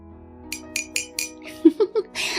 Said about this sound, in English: I am having coffee with ice cubes in it.